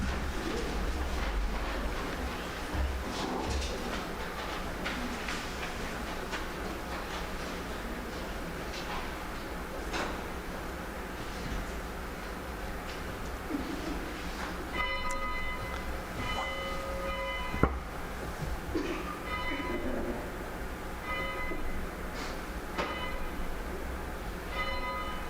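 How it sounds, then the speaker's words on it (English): Church bells ring during a Unitarian Universalist service, their struck tones emerging over a steady low rumble in the second half, with repeated strikes fairly distant and moderate in level. "we will ring the bells 8 times for our 8 ethical"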